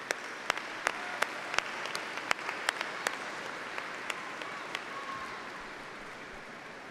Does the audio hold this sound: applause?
yes